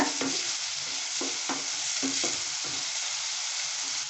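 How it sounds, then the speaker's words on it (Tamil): Onions sautéing in a pan until golden for a Tamil-style mushroom gravy, giving a steady close sizzle with repeated soft stirring scrapes every half second or so, and no voices. "வெங்காயம் நல்லா பொன்னிறம் ஆகிறதுன்னு வணக்கலாமுங்க."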